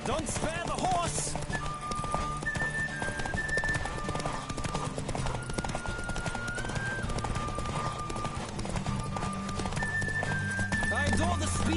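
Horse hooves clip-clopping at a gallop in the Witcher 3 video game, a steady rapid rhythm with occasional whinnies, layered over game music and a voice talking throughout.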